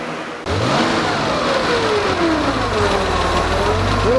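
A Porsche engine with C.I.S fuel injection bursts into a loud, close rev, its pitch climbing and then gliding back down as it settles toward a steady idle, with no talking over it.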